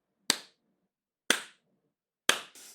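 Three sharp, separate hand claps mimic spankings heard from a corridor, evenly spaced about a second apart and close by, with a brief softer rustle after the last one.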